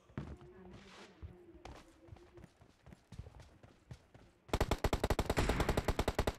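M416 rifle fire in a shooter video game: after scattered footsteps, clicks and faint voices, a sharp sustained burst of rapid automatic shots rattles out loudly in an even, fast rhythm.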